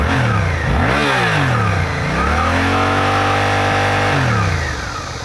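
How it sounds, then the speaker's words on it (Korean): A Suzuki GSX-8S motorcycle engine revs up and down in loud, sweeping pitch climbs, holding high revs before dropping back toward idle. "엔진 RPM을 한번 올려볼까요?"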